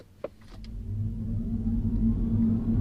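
A Mini Cooper SE electric car accelerates hard from a standstill to 60 with traction control off in sport mode, its motor whine climbing smoothly in pitch over a steady low road rumble.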